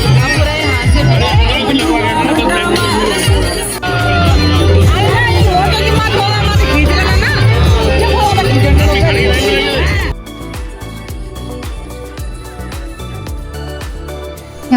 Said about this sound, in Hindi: यहाँ पे खाने के स्टॉल में बहुत ज़्यादा भीड़ लगी हुई थी